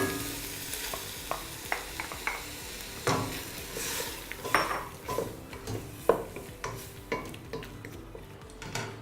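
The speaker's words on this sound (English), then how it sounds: "I'll let the mushrooms simmer for about 3 minutes" Mushrooms simmering in a pan with prawns, onion, garlic, leek and cream for linguine, giving a soft steady bubbling sizzle broken by repeated clinks and scrapes of stirring, close and moderately loud, with no talking.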